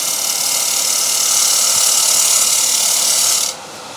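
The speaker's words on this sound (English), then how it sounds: "So we start cutting here just to get the chamfer" A gouge cuts a chamfer on the edge of a wooden platter spinning on a lathe, giving a steady hissing, rasping scrape over the motor's hum that stops abruptly near the end.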